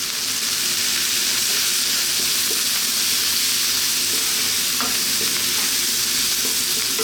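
Chicken curry with curry powder fries over lively heat while being stirred, a dense continuous sizzle with occasional scraping taps, loud and close, no voices.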